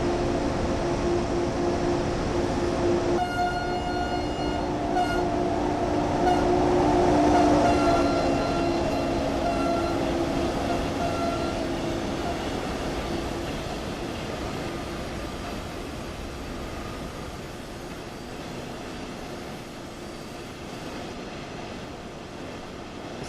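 A train engine runs in the Train Sim World 2020 video game, a loud sustained rumble with a tonal hum that swells midway, then gradually eases as the throttle is pulled back.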